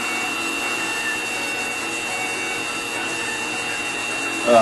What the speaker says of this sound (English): now we're going to cut this end off